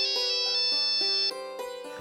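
An incoming call sets off a phone ringtone, a bright, repeating melodic pattern of electronic tones that plays alone and close by.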